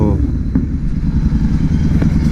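A modified 2024 Royal Enfield GT650 motorcycle engine runs at full throttle, a loud, steady low rumble with brief sharper bursts, heard up close without talk.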